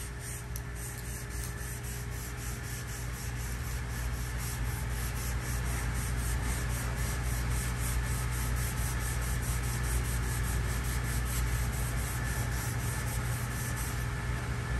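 A Scotch-Brite pad scrubs steadily across a vehicle rear axle where the bearing and seal sit, a continuous close hissing rub with no pauses and no talk.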